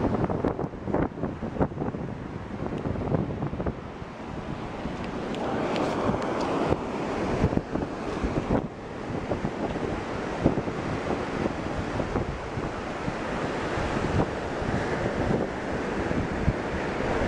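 Heavy ocean surf pounds continuously at close range during a sea water test, with broadband rushing wash and gusty wind buffeting the microphone throughout, no voices.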